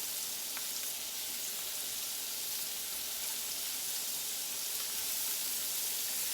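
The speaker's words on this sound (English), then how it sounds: "we're hot enough now, and we're going to put our scallops in, leaving space between them" Scallops searing in a hot pan give a steady, loud, dense sizzle that runs evenly throughout, close up and with no talking over it.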